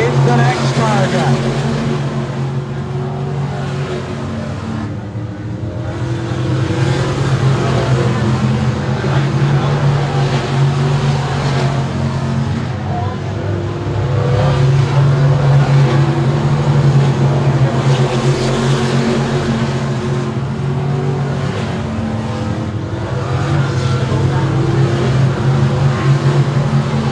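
Race cars circle a short oval track in a feature race, their engines a dense, loud, continuous drone that swells and fades as packs pass, with an announcer's voice running over it.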